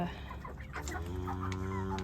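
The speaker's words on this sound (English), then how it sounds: "Some of the hens will replace hens in my flock and grow my flock" A backyard flock of hens clucks and murmurs continuously, with overlapping soft calls at a low, steady level and no talking.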